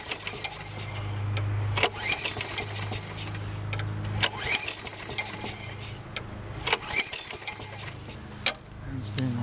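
A Sears Craftsman 21-inch lawn mower engine, hard to start and suspected of a gummed carburetor, sputters and catches through repeated pull attempts, uneven chugging under sharp clattering bursts, with a person speaking at times.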